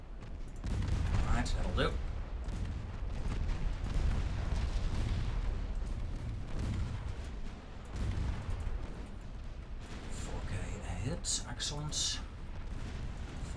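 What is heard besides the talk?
naval gunfire in video game Ultimate Admiral Dreadnoughts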